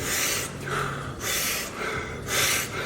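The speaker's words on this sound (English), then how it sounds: "an option of breathing that I like to do, which is called power breathing" Power breathing before a game: three forceful, rapid deep breaths, each a loud airy rush through the nose and mouth, close up and evenly spaced with brief pauses between.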